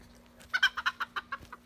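A chicken clucks in a quick close series of about eight short, evenly spaced clucks, fairly loud and near, with a faint steady hum behind and no talk.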